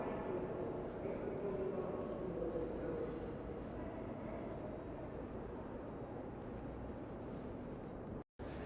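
A New York subway train rumbles steadily throughout, a continuous low roar of wheels and car noise heard from inside, with a brief dropout near the end.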